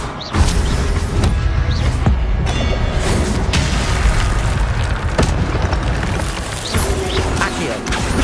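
Fiery spell blasts from Incendio casts in Hogwarts Legacy, a loud, continuous roaring barrage with repeated booming bursts and crackles filling the whole stretch, a voice faintly mixed beneath.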